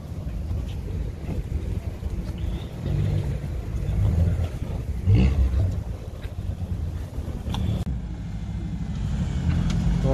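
An old-school Honda Civic engine at an outdoor car meet, a broad low rumble with a louder rev swelling around the middle, over steady wind noise and no talk.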